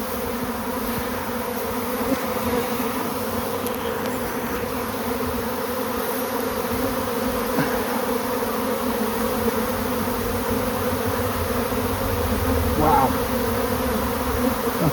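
Honey bees drone densely and continuously around a strong hive in an apiary, a loud, close, unbroken buzz filling the whole stretch.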